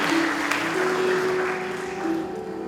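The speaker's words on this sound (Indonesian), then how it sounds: "Kita beri aplaus dulu Bapak Ibu." Applause from a church congregation at an anniversary and hall inauguration service, a dense burst of clapping that runs steadily for a couple of seconds and then tapers slightly, with a faint ringing tone underneath.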